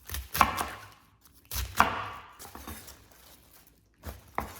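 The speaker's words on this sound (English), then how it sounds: "And then cut them into bite-sized pieces." Knife chopping napa cabbage into bite-sized pieces for kimchi on a board, a few separate close cuts in short bursts with quiet pauses between.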